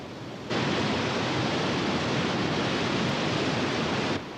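A cartoon waterfall roars as a steady, dense rush of falling water. It starts abruptly, holds at an even loud level for a few seconds and cuts off sharply.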